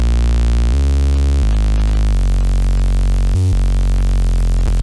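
Wide synth bass layer for drum and bass, built from a saw wave with its fundamental removed plus a sine wave and white noise: loud, buzzy, hissy sustained notes shifting pitch several times, with a short gap in the middle, soloed.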